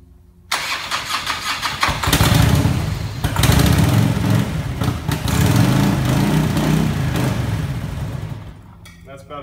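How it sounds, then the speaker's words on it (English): A 1981 Harley-Davidson Tour Glide 1340 V-twin, primed with starting fluid, cranks and catches, then runs loud and close with a rough, uneven idle for several seconds before cutting off. "when I fire it with the starting fluid, the engine will start up and run."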